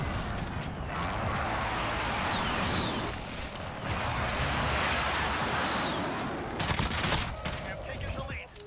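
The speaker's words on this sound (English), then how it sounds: "Allied precision airstrike incoming." Precision airstrike explosions in Call of Duty Modern Warfare, a thick rumbling barrage of blasts and gunfire rolling on steadily, with whistling streaks and a burst of sharper impacts near the end, with speech over it.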